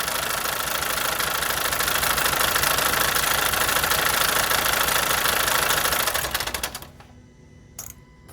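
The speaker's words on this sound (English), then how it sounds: "so I'm going to turn the engine off to prevent the engine from further damaging" A Mazda 3 Skyactiv 2.2 diesel engine running with zero oil pressure gives a loud, harsh, fast knocking clatter for about six seconds, then shuts off and fades to near silence with a brief click.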